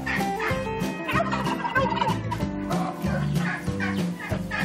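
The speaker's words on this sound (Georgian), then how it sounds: "ეს არის ჩემი საფრთხეს ერთ-ერთი გამორჩეული ფრინველი, არაუკანის ჯიში" An Araucana chicken on a small farm in Senaki, Georgia, gives loud, busy gobbling calls that repeat in quick bursts for several seconds with no one speaking.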